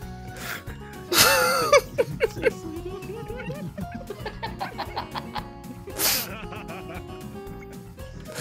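A loud, close sneeze bursts out, followed by wheezy laughter and chuckling from several people talking in a VR game.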